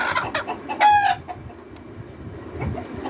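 Eight-month-old Fayoumi laying hens cluck nearby in a few short bursts, with one higher squawk rising out of the low rustle of the coop.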